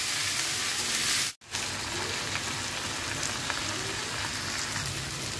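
Bitter gourd and a generous amount of onion fry in a pan, giving a steady, dense sizzle close by that runs throughout, broken once by a brief dropout.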